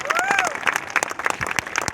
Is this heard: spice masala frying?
no